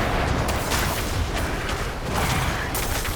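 Heavy booming impacts and force explosions from a Diablo IV boss slamming into the floor, a dense, loud, continuous wash of blasts with a few sharper bursts standing out.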